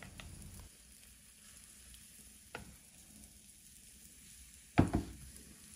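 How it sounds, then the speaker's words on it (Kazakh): Zucchini pancake batter fries in a small greased pan with a steady, soft sizzle, broken by a faint clink midway and a sharper double scrape of utensil on pan near the end. "Кішігірім табаны алып, міндетті түрде майлаймыз. 4 ас қасық қамырдан салып,"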